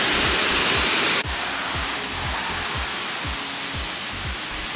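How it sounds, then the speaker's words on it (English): Roadside waterfall in the Faroe Islands, a steady broadband roar of falling water that stays loud and continuous, with a soft repeated low thumping underneath and no voices. "Anywhere, waterfall, so beautiful, so nice."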